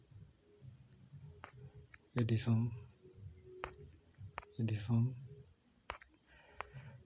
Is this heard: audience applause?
no